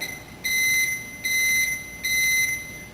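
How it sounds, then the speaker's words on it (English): Three evenly spaced electronic beeps, each lasting about half a second, sound clearly in an otherwise quiet room, signalling the end of a Formasolve formalin processing cycle. "You'll hear a few short beeps to let you know that the cycle is finished"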